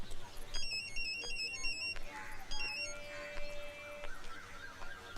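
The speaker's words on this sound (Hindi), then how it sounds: "निशा को फोन लगा और उससे पूछ" A mobile phone's electronic ringtone plays during a scene in a Hindi comedy film, a bright repeating melodic pattern that shifts pitch over several seconds above a low murmur.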